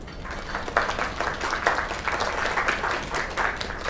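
Crowd applause in the LAKE video game after a singer's performance, a steady wash of many hands clapping at moderate volume throughout, with a few sharper claps standing out.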